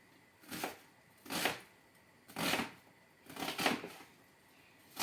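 A knife chops vegetables on a board in a home kitchen while rassolnik soup is prepared: five quiet, separate cutting strokes at an uneven pace, close by, with no talking.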